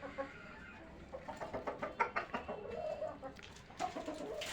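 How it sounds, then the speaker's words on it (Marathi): Country hens on a rooftop poultry farm cluck in a quick, rhythmic run of close, fairly soft calls, pausing briefly before another burst. "काही कोंबड्या अंड्यावर आलेल्या आहे."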